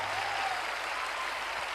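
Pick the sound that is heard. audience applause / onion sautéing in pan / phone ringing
audience applause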